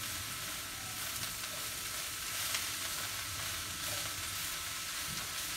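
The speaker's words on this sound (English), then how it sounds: "I'm simply going to stir my Asian salad kit around until the vegetables are nice and soft" Asian salad kit vegetables sizzling in olive oil in a pan while being stirred, a steady soft crackling hiss throughout without speech.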